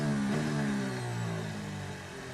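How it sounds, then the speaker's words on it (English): A Renault Formula 1 car engine heard onboard during the 2019 Bahrain Grand Prix, a high strained whine that sags and fades over a couple of seconds as the power cuts out. "Let's have a listen on board with Daniel Ricciardo."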